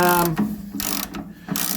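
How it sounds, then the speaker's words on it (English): Ratchet spanner clicking as it turns a bolt on the front end of a 1928 Oakland rat rod, with short loud bursts of ratcheting close up, separated by brief pauses. "I used the ratchet spanner"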